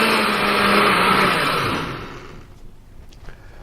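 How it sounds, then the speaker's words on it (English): Blender whirring loudly through a whole head of romaine lettuce, a dense steady roar for about two seconds before winding down and stopping. "I'm just going to take the entire head of lettuce and put it in the blender"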